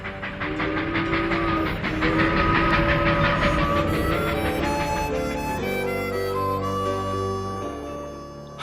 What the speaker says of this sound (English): In late fall, we boarded a train for our return to the South.